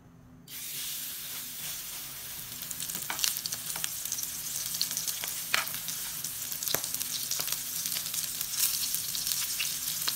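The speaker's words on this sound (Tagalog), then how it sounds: "Maglalagay na tayo ng ating repolyo. Ayan, ang ating pritong repolyo." Shredded cabbage fries in a hot oiled pan with flour batter, breaking into a loud, close sizzle after a quiet moment, with steady crackling and occasional sharp pops, no voices.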